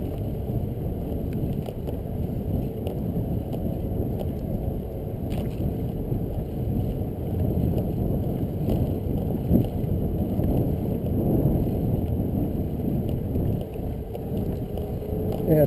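Steady wind buffeting the microphone during a ride on an Espin Aero e-bike climbing a grade into a north headwind, a continuous loud low rumble throughout with no talk heard.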